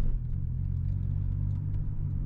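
Toyota Chaser car driving in slow traffic on a drizzly day, a steady low engine hum and road rumble heard from inside the cabin, even and continuous with no talking.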